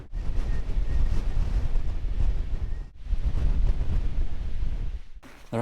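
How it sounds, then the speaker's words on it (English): Strong gale on an exposed hillside buffeting the microphone in loud rumbling gusts, with a brief lull near the middle before the roar returns, and no talk. "It is blowing a gale though, so audio may be a problem"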